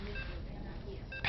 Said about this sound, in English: We have the beeping that indicates that we're going into the match.